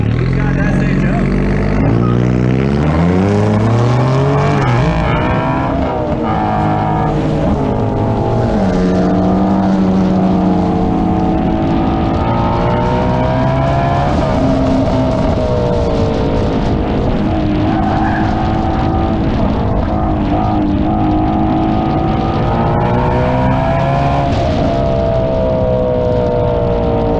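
A Ford Mustang GT350 drag races down the strip at a spectator drag event, its loud engine revving up through rising gear pulls and then holding a steady roar, with a voice talking over it.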